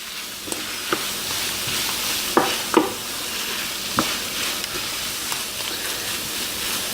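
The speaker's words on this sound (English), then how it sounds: "Next, we add some oregano. And just give it a stir." Sliced onions with oregano sizzling in a pan, steady frying hiss with several sharp scraping stir strokes and clicks spaced through, no voices.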